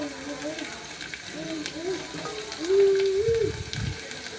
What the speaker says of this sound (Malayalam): സവാള ഒന്ന് എണ്ണയിലൊന്ന് വഴറ്റിയതിന് ശേഷം അതിലോട്ട് നമ്മൾ അരിഞ്ഞു വെച്ചിരിക്കുന്ന അഞ്ച് പച്ചമുളക്